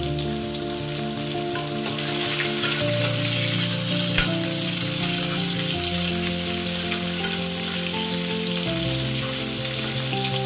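Curry leaves and green chillies crackle and sizzle in hot oil with cumin for paneer bhurji, a steady close frying hiss with a few sharp pops and no talk.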